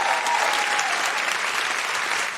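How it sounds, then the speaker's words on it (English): Live audience at a comedy podcast recording in Perth, Australia, applauding steadily throughout, a dense, sustained clapping wash with no speech over it. "Can you please give them a big round of applause?"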